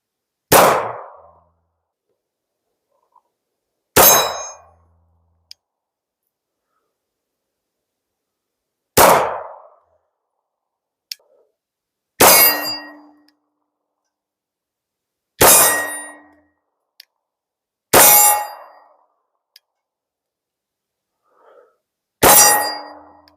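Seven sharp 9mm Glock 19 pistol shots at spaced, irregular intervals, each a loud crack with a ringing metallic clang from a steel target, heard alone with quiet gaps between.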